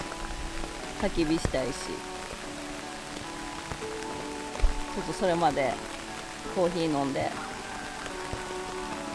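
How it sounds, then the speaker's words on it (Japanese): Steady rain falls at a quiet solo campsite, a constant close patter on a surface throughout, while a person talks softly over it at intervals. "はよ雨止んでほしいんですけど"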